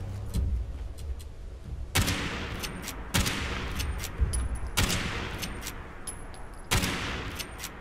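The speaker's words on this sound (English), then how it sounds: "We keep shooting its ass until it dies." Gunfire in Fallout 76 as a rat is shot, several sharp loud shots at irregular intervals with quieter clicks and game ambience between them.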